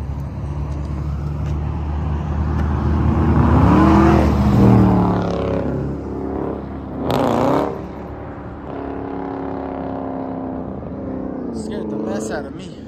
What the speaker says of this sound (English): Big truck coming.